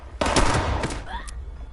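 Video game gunfire from Fallout 76 cracks out in a rapid burst of close, loud shots, followed by a short decaying tail and a faint metallic ring, with no voices.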